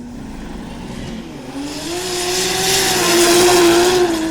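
An all-wheel-drive Mazda RX7 launches on a no-prep drag strip, its engine note climbing into a loud, strained roar as it accelerates away.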